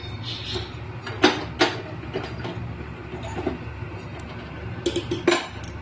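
A cooking pot of potato and egg curry is covered with a lid: a few sharp metallic clanks and knocks, spaced apart over a low, quiet kitchen background.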